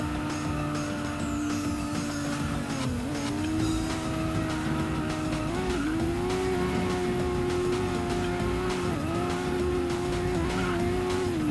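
Car drifting in the Prodigy Drift video game, its engine droning loud and steady with shifting pitch as the tires squeal through slides, continuous for the whole stretch with no talk.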